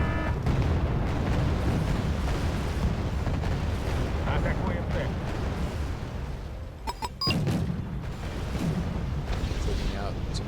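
Bombs dropped by an Albatross aircraft in the war strategy game Wargame: AirLand Battle, heard as a dense, continuous rumble of explosions and booms with a sharper burst partway through, loud and sustained.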